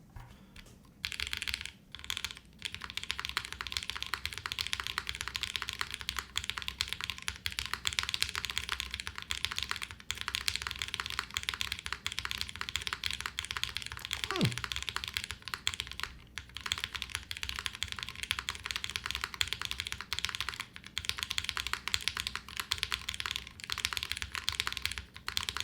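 Steady typing on a Wind Z75 mechanical keyboard with an aluminum plate, Haze switches and no foam, a dense continuous patter of close, crisp keystrokes with brief pauses, heard alone.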